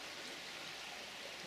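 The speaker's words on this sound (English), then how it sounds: "This beck in front of me runs down eventually into the River Swale, about 15 miles away." A small beck in North Yorkshire flowing toward the River Swale gives a steady, soft rushing of water, even and continuous throughout, with no voices.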